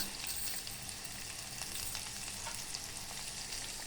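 Onions, dried red chillies, tempering seeds and curry leaves fry in oil for a fenugreek-leaf, sesame and tomato chutney, giving a faint, steady hiss and crackle with no voices.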